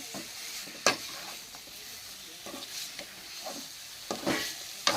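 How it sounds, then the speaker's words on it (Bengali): Chicken for Bengali kosha curry being stirred and fried in oil, a steady sizzle broken by a few sharp scraping strokes of the spoon against the pan, with no talking. "তারপর এরকম লাড়াচাড়া করে ভালো করে কষা হয়ে গেলে মাংসটা রেডি"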